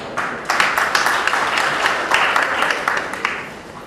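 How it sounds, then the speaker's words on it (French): An audience of bauxite workers gives steady applause at a company celebration in Kamsar, many hands clapping in a dense, sustained wash with a few sharper claps standing out. "Une bonne main d'applaudissements à toutes et à tous."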